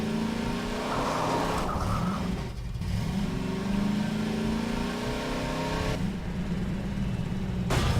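A car driven in the video game Half-Life 2, its engine revving and surging loudly and continuously, rising and falling in pitch with brief dips as it accelerates and shifts.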